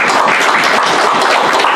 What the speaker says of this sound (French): se lever debout et donner une bonne main d'applaudissement à notre Seigneur et Sauveur Jésus